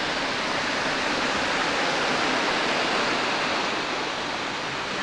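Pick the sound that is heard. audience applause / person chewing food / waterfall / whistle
waterfall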